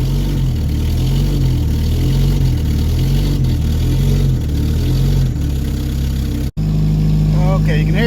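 A woodgas-converted Chevrolet Cavalier engine runs steadily while warming up, its low, even drone swelling slightly under a touch of throttle, broken by a brief dropout before the engine note resumes.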